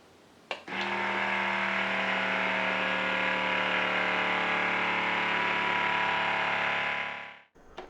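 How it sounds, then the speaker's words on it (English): A steady mechanical motor drone from a vacuum pump on a Tribest Dynapro vacuum blender runs loudly and evenly for several seconds after a click, then winds down and stops. "Then connect the vacuum pump."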